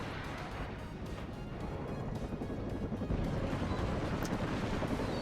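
Battle in the WARNO strategy video game, with explosions and gunfire merging into a dense, continuous roar of distant combat that swells slightly louder midway, with no talk over it.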